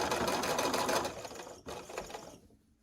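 A sewing machine stitches quilt pieces together in a fast steady run of needle clatter, close and clear, easing off and stopping briefly before a short final burst.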